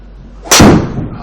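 A golf driver strikes a ball in an indoor screen golf setup, giving one loud, sharp impact that rings briefly and fades, heard alone without talk.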